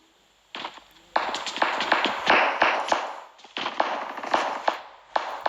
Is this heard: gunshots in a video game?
yes